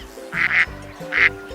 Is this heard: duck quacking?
yes